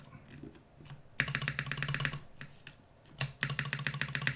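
A mechanical keyboard with PBT keycaps is typed on in two quick bursts of crisp, deep clacks, close and rhythmic, with a quiet pause between them.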